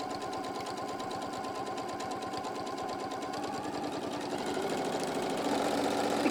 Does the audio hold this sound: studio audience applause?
no